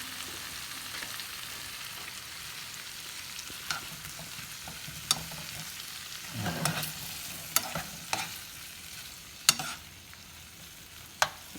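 Shrimp fry in a pan, a soft steady sizzle broken by sharp clinks and scrapes of stirring at irregular intervals, with no talk over it.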